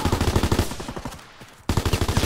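Rapid, evenly spaced bursts from a machine gun in Call of Duty WWII, loud and close, with a short lull near the middle before the steady stream of shots resumes.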